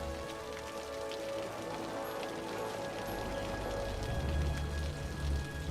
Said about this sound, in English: So we got a little bit of nighttime rain